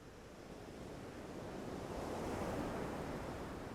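Sea waves wash steadily onto a beach in a continuous broad rush of surf that swells slightly louder midway, with no voices.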